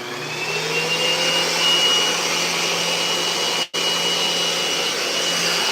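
A power sander smooths the rails, nose and tail of a skateboard deck in a shop, making a loud, steady whirring drone. The sound cuts out very briefly near the end and then resumes.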